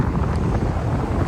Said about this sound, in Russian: здесь у нас ветерок